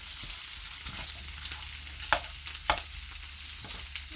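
Boiled potatoes frying in butter in a pan make a steady, close sizzle with a few sharp scrapes and clicks from stirring, and no voices.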